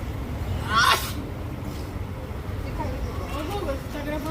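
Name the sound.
woman sneezing outdoors near a fan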